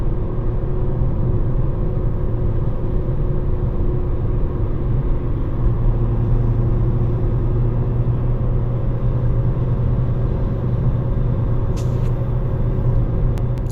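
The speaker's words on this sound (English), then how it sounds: "we listen to the noise levels on these tires, the mix that we have right now" Steady low road rumble and tyre roar fill the cabin of a ten-year-old Ford Fiesta on the move, constant and fairly loud throughout with no talking, a couple of faint ticks near the end.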